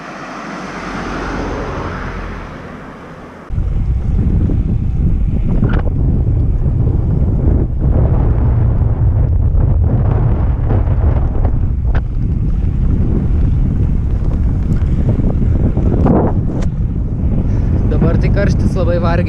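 Strong headwind roars across the microphone while cycling on a long-distance ride from Vilnius to Zakopane, a loud continuous buffeting rumble after a brief quieter moment at the start.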